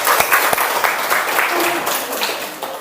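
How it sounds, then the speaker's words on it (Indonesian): A classroom group receives a short burst of clapping from a small audience, uneven and close, with a voice talking over part of it. "Beri tepuk tangan untuk kelompok"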